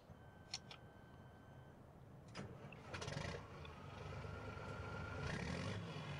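A tractor engine in Farming Simulator 15 starts up with a few faint clicks, then cranks and settles into a steady low idle rumble, quiet and without talk.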